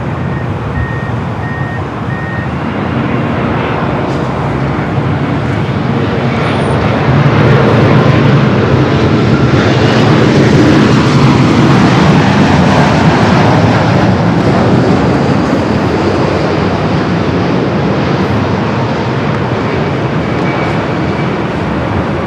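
Airliner arriving at LAX from Osaka, Japan, its engines a loud, sustained roar that swells toward the middle and eases off, with a faint reversing beep early on.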